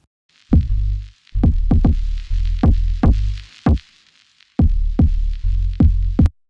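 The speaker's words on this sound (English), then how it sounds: "a plugin to work the harmonic saturation and distortion of that unit into a single knob" A kick drum heavily saturated by a harmonic saturation plugin pounds in a groove, each hit a deep distorted boom that sustains before the next, loud and alone.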